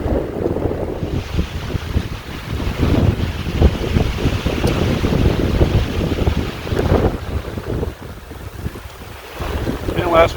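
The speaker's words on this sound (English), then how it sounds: "What's up with the wind?" Strong wind on the Colorado Trail in stormy weather, a loud continuous roar buffeting the microphone in gusts that swell and ease, with no talking.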